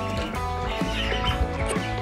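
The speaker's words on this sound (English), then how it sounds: "Healthy, happy chickens." Young meat-bird chickens inside a brooder cluck and chirp continuously at close range, several birds overlapping in a busy, layered chatter with no talking.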